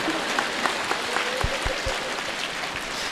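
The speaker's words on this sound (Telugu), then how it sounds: "మహిళా ధ్యానమా చక్రానికి ఒకసారి గట్టిగా చప్పట్లు కొడదాం." An audience at a spiritual meditation talk claps together in a sustained, dense round of applause, moderately loud and even, with a few low thumps partway through.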